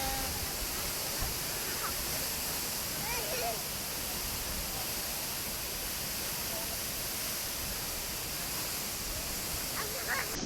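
Steady roaring rush of a waterfall at Valparai, loud and continuous, with faint voices and a dog's barks under the noise.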